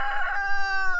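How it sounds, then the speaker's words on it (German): A rooster crows loudly and close by on a farm in the Altes Land, where free-ranging hens live in an orchard. The crow is a single sustained call with a clucking onset. "Die Hühner genießen auf dem Hof im alten Land jede Menge Freiheit."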